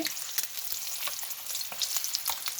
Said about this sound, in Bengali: আজকে ডিম ভাজতে ভাজতে